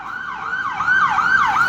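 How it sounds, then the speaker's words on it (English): A wailing emergency siren sweeps up and down in steady cycles outside a Toronto hospital, fairly close and loud, with no talking over it. "That's why you hear a lot of sirens back and forth."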